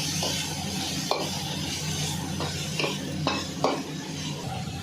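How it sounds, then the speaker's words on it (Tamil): Onion, tomato, green chili and curry leaves sizzle steadily in a pan, with a spoon scraping and knocking against the metal every second or so. Quiet and close. "வெங்காயம், தக்காளி, பச்சை மிளகா, கருவேப்பிலை எல்லாம் போட்டு நல்லா வதக்கினுக்குறாங்க."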